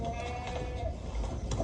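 Goat bleating inside a jail setting in a South Indian film, a steady wavering bleat running the whole stretch at close range, with no talk over it.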